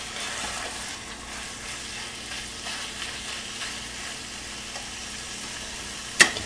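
Food sautés and browns in a pan for a faux bolognese, a constant close hiss of frying with no talk, cut near the end by one sharp click.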